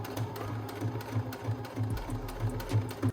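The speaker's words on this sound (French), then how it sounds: "on n'aura plus besoin de reprendre la machine à coudre" Domestic sewing machine stitching around the edge of a fabric pouch, a steady rhythmic mechanical whirring of needle strokes, close and fairly quiet, with a brief low thump partway through.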